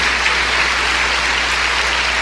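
Church congregation applauding during a Spanish-language sermon, a steady broadband wash of clapping with no talk.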